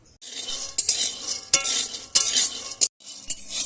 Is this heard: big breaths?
no